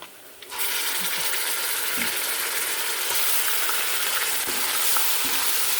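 Garlic and ginger dropped into a pan of golden-fried onions burst into a loud, continuous sizzle after a short quieter moment, with faint stirring taps under the steady hiss and no talk.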